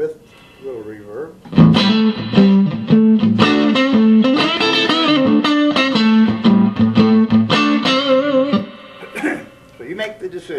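An electric guitar plays bluesy notes and chords through a Vox Berkley Super Reverb Twin amp, the tones ringing out with a light reverb tail before fading.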